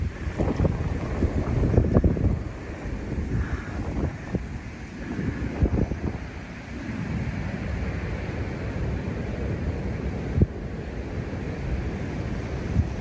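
Strong gusts of wind buffet the microphone during a snowstorm blizzard, a steady roaring rumble that swells and surges in waves, loud and close, with no talking.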